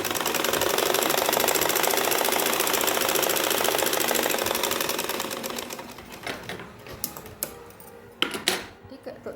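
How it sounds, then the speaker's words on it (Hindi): Sewing machine stitching an anarkali gown, a steady rapid mechanical whir that runs loud for about six seconds, then slows into short stop-start bursts with small clicks and handling sounds. "और सिलाई लगा देंगे।"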